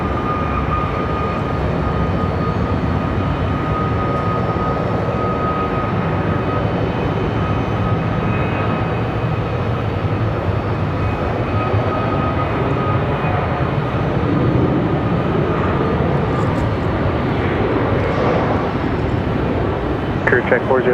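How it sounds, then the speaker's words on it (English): Airbus A321 airliner at Raleigh Durham International Airport, its broad steady jet engine roar filling the whole stretch as it rolls nearby, with a faint voice underneath. "Perfect timing for our A321 to come around the corner."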